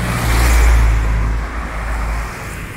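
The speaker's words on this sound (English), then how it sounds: "I'm just waiting for the cars to go by so I can get across the street here." Cars passing by on a street, a loud low rumble swelling as one vehicle goes past close by, then fading into steady traffic noise.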